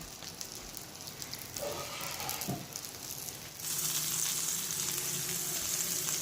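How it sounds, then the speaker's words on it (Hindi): An egg cheese roll cooks in a covered pan with a continuous close sizzle and light clatter, growing louder and brighter in the last few seconds. "अब इधर से पकता रहे और जो चीज़ है वो आहिस्ता आहिस्ता मेल्ट हो जाए"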